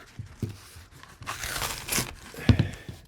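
Glued waterproof TPU sheeting being peeled off a golf shoe, heard up close as short crinkling, tearing rips with a louder crackling pull near the end.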